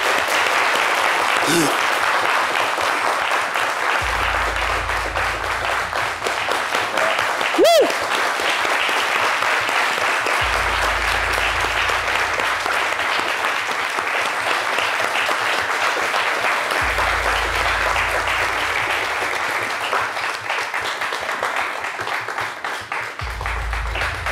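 Sustained studio audience applause on a French midday television set, broad and continuous, with brief faint voices and low musical stings rising underneath at intervals.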